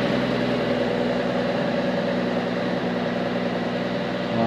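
A Chevy 4.1 engine running on a wood gasifier idles just above idle at about 1000 RPM, a steady droning hum with even low pulsing throughout, no talking.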